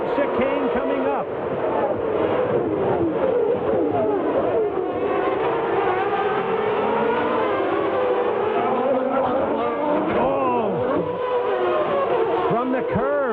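Formula 1 cars launching off the start of the 1993 Australian Grand Prix in a racing video game, a dense loud roar of many engines revving and sweeping in pitch throughout, with a commentator talking over it.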